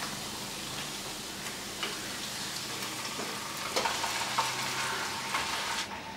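Bone-in chicken sizzles steadily in a pan with crushed garlic and ginger, a continuous close frying hiss broken by occasional louder crackles and spatters, with no talking.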